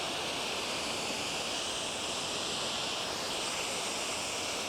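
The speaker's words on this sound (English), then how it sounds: "I'm just going to mist this down with a little bit of water" Water misted from a sprayer onto a wooden deck during cleaning, a steady, even hiss of fine spray with no pauses or other sounds.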